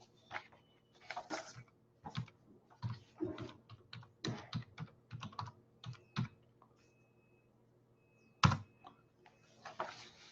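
Rapid typing on a computer keyboard in a quiet room, bursts of light plastic key clicks in irregular runs with short pauses and one louder keystroke near the end, no voices.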